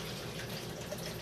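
Eight ounces of water being poured for a protein shake, a faint, continuous trickling splash running steadily at close range with no talk over it.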